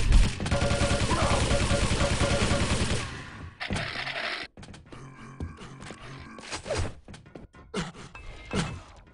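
Machine gun fire in a Quake Live team deathmatch: a dense, rapid burst of shots for several seconds, then scattered individual shots, impacts and game effects, loud and close.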